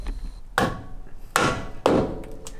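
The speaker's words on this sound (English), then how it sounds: "All right, Dylan, hit it with the hammer." A hammer strikes metal three times, close and sharp with short ringing decays at uneven intervals, as a brake retaining clip is tapped into place on a Honda Civic EK front brake upgrade.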